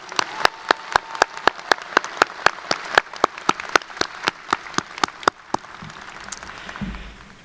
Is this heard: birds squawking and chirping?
no